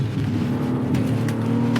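An Acura MDX Type S SUV accelerates through tight corners, its engine note loud and close with a steady, rising drone and a little road noise, with no talking.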